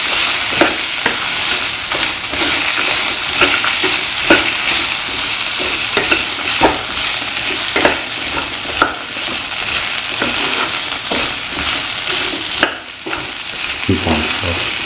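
Plantain and cashew sautéing in a pan, with a steady loud sizzle of frying and repeated scraping stirs of a utensil throughout.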